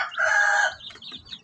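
A Shamo hen in a brooding setup with her chicks gives a single drawn-out loud cluck-call up close, followed by softer scattered chirps.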